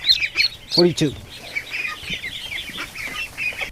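Ducks quack and flap their wings close by in short, bright bursts of calls and fluttering. A person speaks briefly over them.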